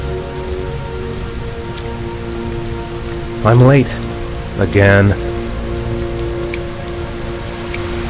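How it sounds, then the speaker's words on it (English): Heavy rain falls steadily in the video game Heavy Rain, a constant close hiss under a brief spoken line from a man partway through. "Heavy rain. It's been the same for weeks."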